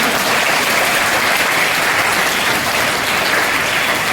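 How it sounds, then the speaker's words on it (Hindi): A large audience applauds steadily and loudly to welcome a guest at a school event, a dense continuous wash of clapping with no gaps. "Please have a big round of applause."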